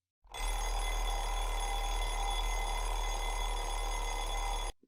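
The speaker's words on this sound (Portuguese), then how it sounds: "O despertador toca." Alarm clock ringing with a continuous, steady metallic bell tone that starts abruptly, holds for about four seconds at an even level and cuts off sharply, heard alone.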